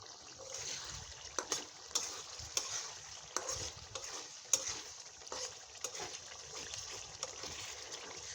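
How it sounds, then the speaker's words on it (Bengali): Prawns cooking in a pan are stirred and turned, with irregular soft scrapes and clicks over a faint, low sizzle. "চিংড়ি মাছ দিলাম। এখন ভালো করে নেড়ে চেড়ে মিশিয়ে নিব।"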